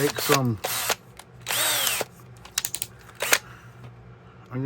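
A power drill bites through several small leather pieces in quick, loud bursts of whirring with short pauses between them, followed by lighter clicks and handling noises as the work is done by hand.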